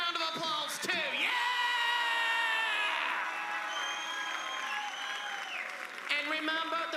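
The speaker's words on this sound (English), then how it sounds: "And let's give these two a round of applause too." Audience applause and cheering at a pageant, continuous clapping mixed with yells and whoops, loud at first then easing slightly before rising again near the end, with voices shouting over it.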